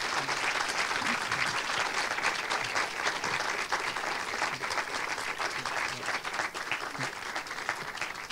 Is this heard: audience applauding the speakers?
yes